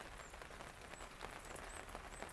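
Rain falling outdoors in a garden in Florida, a faint, steady patter of drops spread evenly across the clip with no talking.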